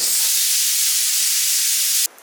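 A pressure cooker steaming broiler chicken for Kerala chicken thoran lets out a loud, steady, close hiss of escaping steam for about two seconds before it cuts off abruptly.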